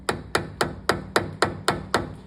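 Eight sharp metallic hammer strikes drive a shank into a shift knob in a steady, even rhythm, close and crisp, each ringing briefly before the next blow.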